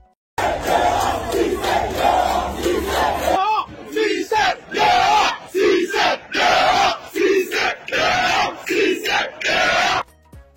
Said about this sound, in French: les manifestations pour chasser Cissé ont vraiment fait du bruit, comme on peut le voir ici